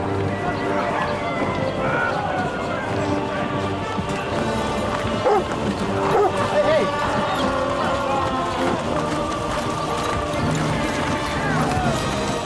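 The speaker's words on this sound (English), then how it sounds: "That's the dog that chases away in the beginning." A dog barking in the medieval game Kingdom Come: Deliverance II, several sharp barks scattered through a busy mix of footsteps, hooves and other game sounds, with voices talking underneath.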